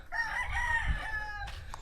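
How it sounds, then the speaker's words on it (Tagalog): A rooster crows once, fairly faint and a little distant, on a farm with chickens, followed by a short clucking call. "Namiss ko na yung mga hiyawan ng mga manok."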